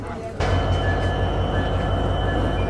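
The Madhumati Express with LHB coaches starts rolling at a station after a sudden onset, giving a steady, fairly loud low rumble of the moving train that holds through to the end.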